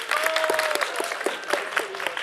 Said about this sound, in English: let's give a round of applause for our helpers